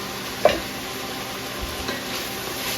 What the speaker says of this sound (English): They've been sauteing about 5 minutes now